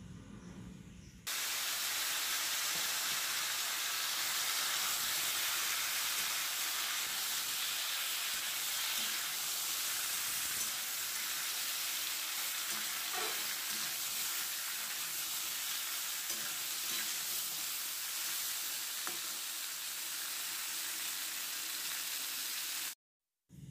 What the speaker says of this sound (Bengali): তো দেখো একটুখানি নাড়াচাড়া করে ভেজে নিয়েছি